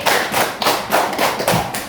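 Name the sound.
hand clapping, class clap pattern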